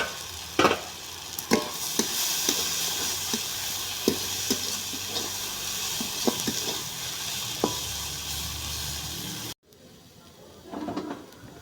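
Kalmi shak, water spinach greens, sizzle in a pan while being stirred, with sharp scraping clacks of the spatula over a steady hiss before the sound cuts away.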